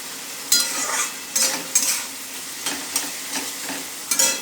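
Chilli egg sauce being stirred in a sizzling pan, a soft frying hiss broken by about eight sharp scrapes and clinks of a spatula against the pan at irregular intervals, close by and with no talk.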